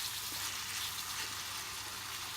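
Mince browning in a frying pan on a home stove gives a steady, close, soft sizzle with a hissing, crackling texture and no talk over it.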